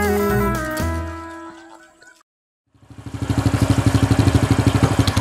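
Music with tones fades into a brief silence, then a motorcycle engine starts and runs with a rapid, even pulsing putter, close and loud.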